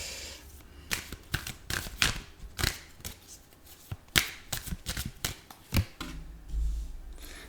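Tarot cards shuffled by hand at close range, a quiet run of crisp riffling snaps and flicks in irregular bursts, with a soft thump near the end and no talking.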